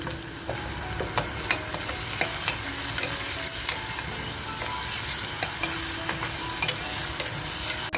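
Onion frying in oil as it is stirred in a pan, with a dense, even sizzle throughout and regular sharp ticks of a spoon against the metal.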